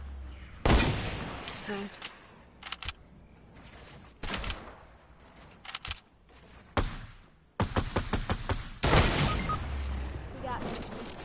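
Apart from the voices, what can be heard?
sniper gunfire in a video game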